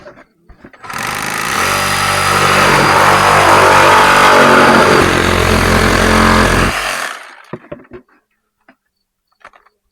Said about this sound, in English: Kyle, can I have that sawzall